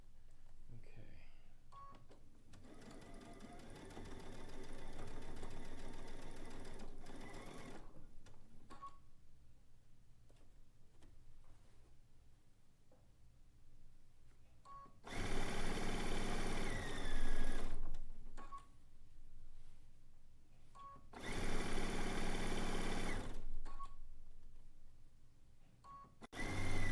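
A sewing machine stitching a quilt top seam on a zig zag quilt runs in several bursts, loud whirring stretches broken by pauses, with a voice talking between and over them.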